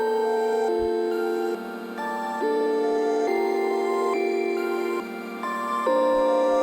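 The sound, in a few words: bell synth with halftime and gated volume automation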